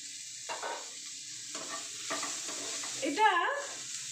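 Dry fruits and raisins fry in a pan with a soft, fairly quiet sizzle and occasional stirring scrapes, while someone talks over it in short bursts.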